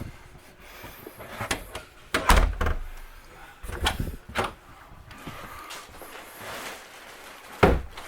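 A bedroom sliding door in a Heartland Cyclone 4007 camper trailer slides and knocks, with a series of rumbling scrapes and sharp thuds at irregular intervals, close and moderately loud.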